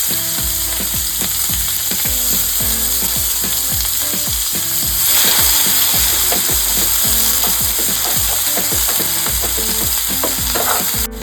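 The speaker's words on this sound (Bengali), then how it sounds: "এবার এই তেলেতেই আমি দিয়ে দেবো প্রথমে স্লাইস করা পেঁয়াজ।" Sliced onions fry in hot coconut oil in the same pan after fish, a loud, continuous sizzle with repeated scraping stir strokes in a steady rhythm, no talk.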